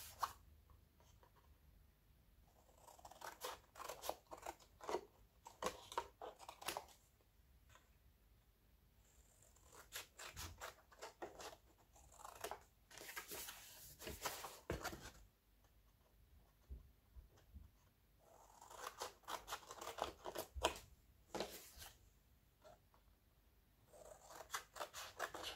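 Scissors cutting paper for a black and white scrapbook album, with repeated close, crisp snipping and rustling in quiet bursts, pausing between cuts.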